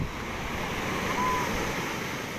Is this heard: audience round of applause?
no